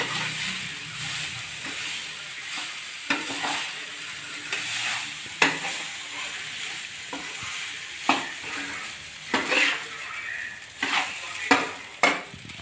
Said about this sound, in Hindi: तो जी चावल मैंने भून लिए हैं